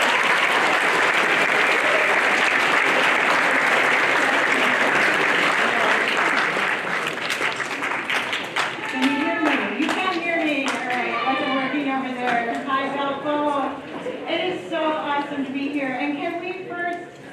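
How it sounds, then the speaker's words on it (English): An audience applauds as a speaker is introduced at a talk on comfort and human care, dense clapping that begins loud, then thins and tapers as a voice starts speaking over it. "Give her a round of applause."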